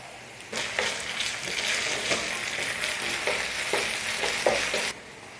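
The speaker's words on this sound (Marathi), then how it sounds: "आता त्याच्यामध्ये ना 1 चमचा आपल्याला अद्रक लसूणची पेस्ट टाकून घ्यायची." A spoonful of ginger garlic paste hits hot oil in a pan with lightly golden onions and sizzles loudly and steadily, with a few stirring scrapes, close up and with no talking.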